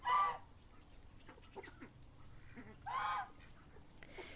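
Backyard chicken flock giving two short, loud squawks a few seconds apart, with quieter clucking and murmurs between them against a low, steady background hum.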